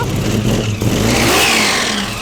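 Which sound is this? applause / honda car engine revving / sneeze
honda car engine revving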